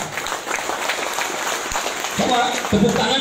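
Audience clapping at an Indonesian GMBI organization gathering, a crowd's patter of applause that swells toward the end, with someone talking loudly over it.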